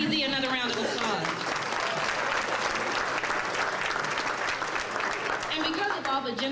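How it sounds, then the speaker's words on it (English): Sustained applause from an audience at a live-streamed community charity event, steady and full throughout with some cheering voices mixed in, dipping briefly near the end. "Let's give WDCZ another round of applause."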